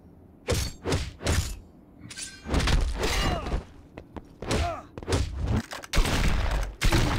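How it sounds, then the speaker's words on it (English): Gunfire rings out in the fighting game Mortal Kombat Mobile, several bursts of sharp shots and heavy impact thuds in quick uneven succession, loud, mixed with clanking game effects. "Shots fired, baby."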